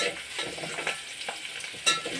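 Curry leaves and green chillies dropped into hot oil crackle and sizzle close by, with stirring scrapes and a sharp spit near the end, no voices.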